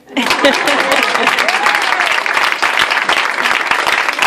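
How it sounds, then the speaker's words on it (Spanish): Church congregation applauding during a sermon, a dense steady wave of clapping that fills the whole stretch at close range with no break. "Démosle un aplauso."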